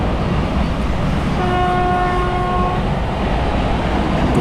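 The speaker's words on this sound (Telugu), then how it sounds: "గూడ్స్ ట్రైన్ వెళ్తుంది." A passing goods train rumbles steadily with a loud, sustained horn blast in the middle, heard from a passenger train near Duggirala station between Tenali and Vijayawada.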